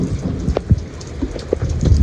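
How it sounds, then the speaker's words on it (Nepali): Heavy rain patters steadily on a surface outdoors in a rural setting, a dense close wash of drops with a few louder splashes. "पानी पर्यो"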